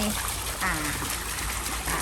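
A solar-powered submersible pump feeds a small brick and laterite garden pond waterfall, giving a steady close rush and trickle of falling water while someone talks over it.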